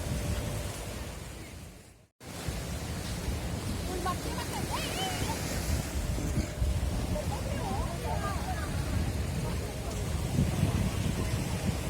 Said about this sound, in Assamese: সাগৰীয় ঢৌ ধুনীয়া বতাহ আহি আছে